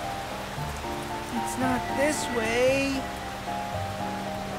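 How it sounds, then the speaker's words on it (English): Cartoon rain falls steadily in a foggy outdoor scene, a soft continuous patter with background music and a character speaking over it. "It's raining too."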